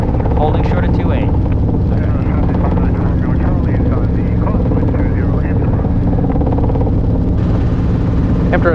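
Robinson R22 helicopter in flight, its rotor and engine making a loud, constant, close cabin drone, with radio calls and two people talking over it throughout.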